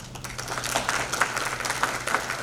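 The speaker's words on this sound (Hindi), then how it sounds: "देर से ताली को बजी" Audience applause at an inland fisheries and aquaculture meet in Indore, a moderate crowd clapping steadily in a dense patter that swells slightly, with no voices over it.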